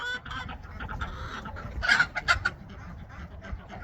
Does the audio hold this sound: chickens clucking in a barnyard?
yes